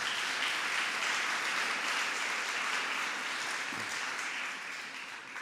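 Sustained applause from an audience honoring Assemblyperson Helene Weinstein and Senator Jeff Klein at a zombie homes event, a steady wash of many hands clapping that holds evenly before tapering slightly at the end.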